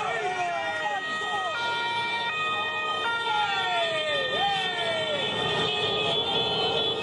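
Several police escort sirens wail and blare together with shifting pitches over a constant roar of football fans and traffic noise outside a stadium in Naples, moderately distant.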